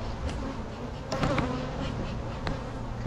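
Honey bees buzz inside a hive box during a brood check, a dense, steady drone close by with a few brief knocks and rustles, no talking.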